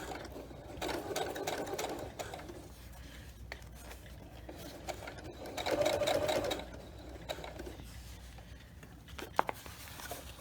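A sewing machine stitching a vinyl zipper pouch runs in short bursts, with a longer, louder run in the middle, close up and with no talking.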